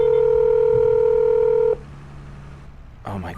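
A telephone ringback tone in Farming Simulator 25 sounds as a steady loud purr while a call is placed, then stops abruptly and low hiss follows before a brief burst of voice starts at the end.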